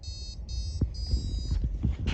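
A piezo buzzer wired to an Arduino beeps in short, high, steady tones, three repeated pulses near the start, with low rumbling handling noise underneath and no speech.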